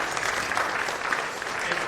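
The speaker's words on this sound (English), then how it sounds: "a big round of applause for all the speakers" An event audience applauding the speakers, a steady dense wash of clapping from a full room that holds evenly throughout.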